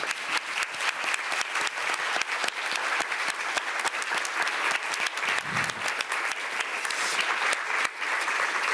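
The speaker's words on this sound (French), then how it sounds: "je vous demande même de l'applaudir, Laura Morente" Sustained applause fills the room at a Cannes film festival press conference for actress Laura Morente, thick and continuous clapping from a large audience that holds steady throughout with no pause.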